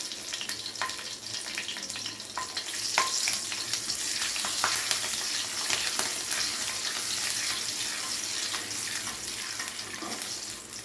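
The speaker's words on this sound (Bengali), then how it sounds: "এই তেলের মধ্যে আর একটু তেল অ্যাড করে ফোড়নে দিয়ে দেবো কালো জিরে আর একটা কাঁচা লঙ্কা" Black cumin seeds and a green chili crackle and sizzle in hot oil as a tempering for a sesame okra dish, a steady close frying hiss with faint scattered pops and no talking.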